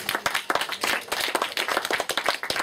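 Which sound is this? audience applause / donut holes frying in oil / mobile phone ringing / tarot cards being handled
audience applause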